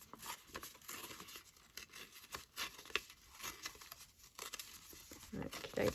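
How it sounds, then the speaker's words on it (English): Scissors snipping into fabric or paper to start a hole for a window pocket, followed by crinkling and tearing sounds, quiet and close, with intermittent rustles throughout. "the reason I'm using the scissors to get me started with the hole is just because otherwise, you know, I'd have to kind of like try and tear into it"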